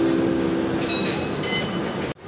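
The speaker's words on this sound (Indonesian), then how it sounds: "Attention please, the door will be closed." A KRL commuter train on the Jogja–Solo line hums steadily, with two bursts of high hissing like pneumatic doors closing, then an abrupt thud as the noise cuts off sharply.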